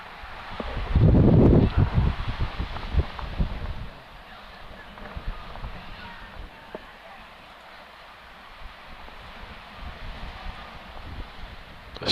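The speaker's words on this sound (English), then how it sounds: "It's not any less windy." Wind gusting across a high school baseball field, a steady broadband rush with a loud buffeting burst near the start that settles into a lower continuous roar against the microphone.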